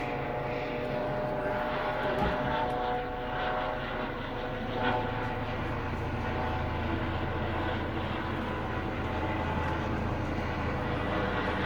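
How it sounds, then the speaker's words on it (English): A jet aircraft overhead drones steadily and continuously for over ten seconds, a broad rumbling engine tone with humming harmonics that stays fairly loud throughout. "There's another jet up there, look."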